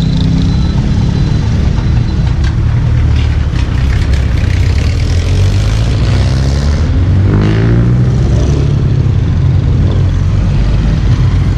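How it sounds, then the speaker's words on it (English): Light road traffic moves along a street in the Philippines ahead of Typhoon Mangkhut, with car engines idling and pulling away, a steady mid-distance rumble and one vehicle passing more closely near the end, no talking. "traffic is very light"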